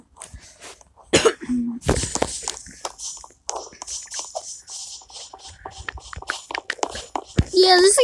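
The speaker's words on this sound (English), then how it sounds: "Try not to cough during this video." A person coughs several times in sharp, close bursts, mixed with throat clearing, shuffling and rustling, while a voice speaks intermittently.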